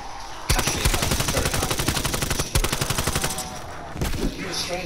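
Rapid automatic gunfire in the video game Call of Duty Black Ops Cold War, Firebase Z zombies mode, rattles loudly in long sustained bursts with a brief break, close and dominant.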